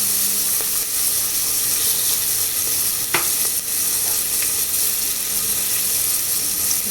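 Onions fry in hot oil for pongal: a loud, continuous sizzle with occasional sharp clicks of stirring, and no talking over it.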